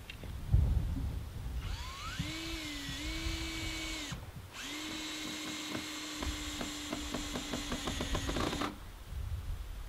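A cordless power drill drives screws into greenhouse rafters outdoors in winter, sounding two whining runs that rise and hold, the second ending in rapid clutch clicks as the screw seats, close and clear with no talking.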